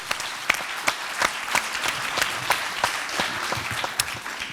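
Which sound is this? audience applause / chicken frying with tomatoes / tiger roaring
audience applause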